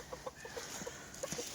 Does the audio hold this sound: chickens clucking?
yes